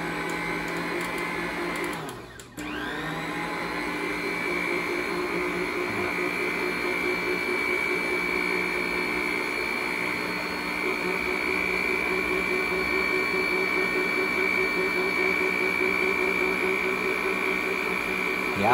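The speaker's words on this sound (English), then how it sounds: "you're gonna put your mixer down and I'm gonna turn it on" An electric mixer mixing pumpkin pie filling at low speed, a steady motor whine and hum that starts with a brief clunk and then drones on evenly and fairly loud throughout.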